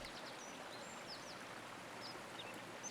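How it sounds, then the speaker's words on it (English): Kindness Creek flows with a steady, soft murmur of water that stays even throughout, with faint bird chirps dotted above it. "the waters of Kindness Creek call with their steady murmur"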